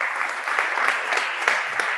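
Audience applause at a Basque cuisine gastronomy event, with many hands clapping in a thick, even patter and a few sharper claps standing out, and no speech over it.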